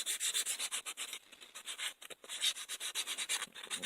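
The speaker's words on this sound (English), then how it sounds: "you can take any kind of sandpaper or whatever, just run over everything." Sandpaper is rubbed back and forth over a shaped wooden piece of a one-handed book reader, quick scratchy strokes in an uneven rapid rhythm, close and fairly quiet, with no voices.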